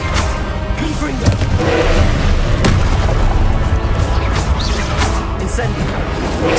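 Confringo explosive curse blasts fired during the Pensieve Guardian boss fight in Hogwarts Legacy, heard as loud, dense booming and crashing over a continuous, busy battle din.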